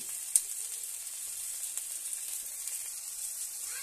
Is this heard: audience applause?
no